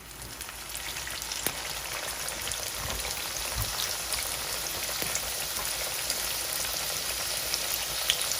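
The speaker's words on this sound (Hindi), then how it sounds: "इसको मीडियम हीट के ऊपर जो है वो हम अब फ्राई करेंगे" Afghan bolani fries in oil over medium heat, giving a dense, steady sizzle that holds at an even level throughout, with no voices.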